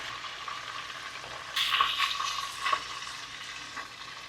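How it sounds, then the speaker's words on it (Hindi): Shami kebabs deep frying in hot oil, a steady close crackling sizzle that surges louder midway as the oil is disturbed, with no talking. "अब इसके साथ ही मैं सारे कबाब फ्राई कर लेती हूँ"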